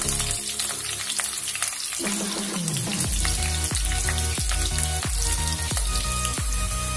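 Capsicum frying in a pan for a vegetable pulav, a busy crackling sizzle with regular spoon stirs and scrapes tapping through it, close and steady with no talk.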